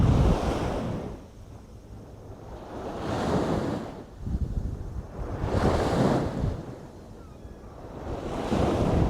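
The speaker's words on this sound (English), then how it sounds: "gonna wait till the waves stop crashing" Ocean waves surge and crash onto shore in three or four slow, loud swells, each rising and falling with steady wind noise on the microphone and no voices.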